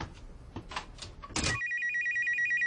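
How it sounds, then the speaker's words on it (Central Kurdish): A telephone rings with a steady, bright electronic warble that starts abruptly after a few soft rustles and footsteps, then carries on alone and fairly close. "تەلەفۆن نا وەڵام نەدەیەوە"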